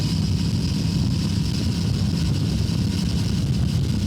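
An Aprilia Tuono 457 motorcycle engine holds a steady 4000 RPM while riding on an open road. It makes a loud, continuous low drone with rushing wind noise and no voices.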